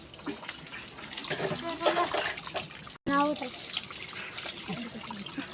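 Water splashes and runs steadily from a spout, with a brief cut midway; voices can be heard over the continuous pouring.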